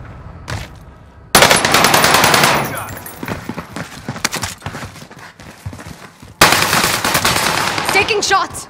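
Video game gunfire: loud, sustained bursts of rapid automatic fire, likely from an SMG, with a quieter stretch of scattered shots between two heavy volleys.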